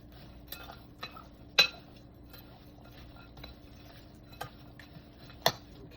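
Chopped cranberries, walnuts and sugar mixed in a bowl, with a few sharp utensil clinks against the bowl spaced through a quiet background.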